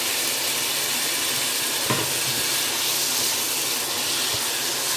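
Onions fry in a pan for gobhi keema with a steady, dense sizzle and hiss that runs unbroken throughout, close and fairly loud, with no talking.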